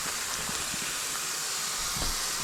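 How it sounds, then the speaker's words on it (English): Cooked hamburger meat for sloppy joes is strained, a steady close wash of hissing, splattering liquid and grease running through a strainer, broad and even with faint low bumps beneath. "we're going to go put our hamburger meat and strain it"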